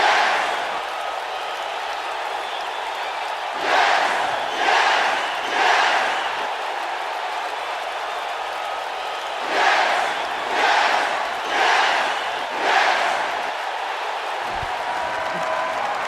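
Arena crowd cheering and applauding in the WWE 2K19 wrestling game, steady crowd roar with several surges of louder cheers rising and falling, no talk.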